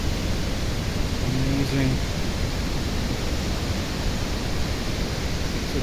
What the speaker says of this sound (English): as if from all the mountain the spring is flowing downwards